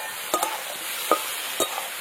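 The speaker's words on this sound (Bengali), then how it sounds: "এবার দিয়ে দেবো টমেটো, আর তার সাথে আদা, পাকা লঙ্কা আর রসুন বাটা দিয়ে দিলাম। পেঁয়াজ আলুর সাথে ভালো করে এবার কষিয়ে নিতে হবে।" A ginger, chili and garlic paste with tomato is sautéed alongside onion and potato, giving a low steady sizzle marked by three sharp spoon scrapes against the pan, heard up close.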